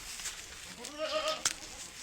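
A goat gives a single wavering bleat at moderate distance, fairly faint over a quiet farmyard background.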